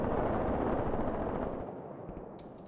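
Distant artillery fire in the wartime tactics game Graviteam Tactics Mius Front: a dense, continuous low rumble of shell impacts and booms that gradually fades over a few seconds, with no talk.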